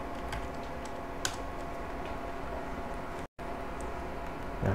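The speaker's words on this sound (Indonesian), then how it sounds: "teman-teman ketikkan saja Meet Google." Someone typing on a computer keyboard, a steady run of light, close key clicks across the whole stretch with one brief gap of silence.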